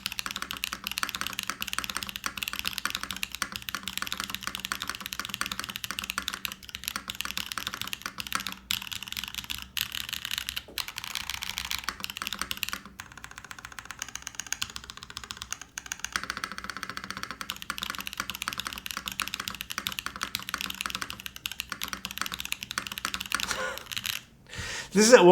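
Steady fast typing on a mechanical keyboard fitted with Holy Panda tactile switches, close and continuous for the whole stretch, with brief pauses and a louder burst of keystrokes at the end.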